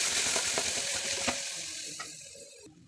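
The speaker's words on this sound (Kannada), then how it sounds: "ಶುಂಠಿ ಬೆಳ್ಳುಳ್ಳಿ ಪೇಸ್ಟ್ ಹಸಿ ವಾಸನೆ ಹೋಗೋವರೆಗೂ ಸ್ವಲ್ಪ ಫ್ರೈ ಮಾಡ್ಕೊಬೇಕು" Onions, green chilies and ginger garlic paste fry in a pan for a hotel-style vegetable kurma. A steady sizzle runs under several sharp scraping stir clicks, then fades toward the end, with no talking.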